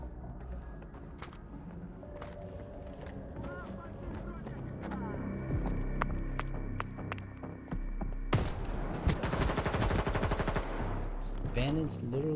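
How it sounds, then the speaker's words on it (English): Bandits open fire in Stalker 2, with sustained bursts of automatic gunfire and scattered shots that grow denser and louder toward the end, under continuous game ambience and a voice talking throughout. "Bandits literally just walked up in here. Started shooting the place."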